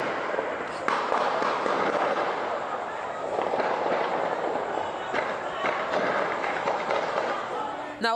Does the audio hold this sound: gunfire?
yes